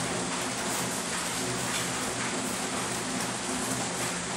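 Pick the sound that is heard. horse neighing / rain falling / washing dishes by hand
rain falling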